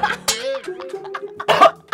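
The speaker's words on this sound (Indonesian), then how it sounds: "batuk" Two sharp, close coughs, with brief voiced sounds between them.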